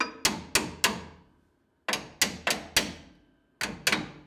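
Hammer blows on a Ford Bronco leaf spring during suspension work: three sharp metallic taps, a pause, then four more and a final pair, each clear and close with short ringing decays.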